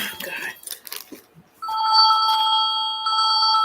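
A mobile phone starts ringing after a few moments of someone talking, its bright electronic ringtone sounding loud and close and repeating steadily until the end.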